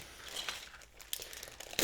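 Plastic bags crinkle and rustle while a Takara Tomy Zoids Wild Geno Spino toy is unboxed, with soft crackling bursts throughout and a sharper crinkle near the end, alone and close.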